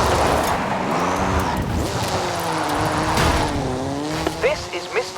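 Ken Block's Hoonigan Gymkhana 10 Ford Focus RS RX, a 2-litre turbocharged front-engined rally car, drifts in Forza Horizon 5 at a Mexico drift club, its engine revving and rising in pitch with tire squeal near the end. Background voices come and go.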